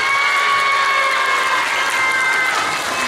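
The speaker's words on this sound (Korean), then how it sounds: "우리 박기태 단장님을 박수로 맞이해 주세요" A live audience breaks into sustained, dense applause to welcome Park Ki-tae, head of VANK, at a talk for schoolchildren; steady clapping with some crowd noise fills the whole stretch at even loudness.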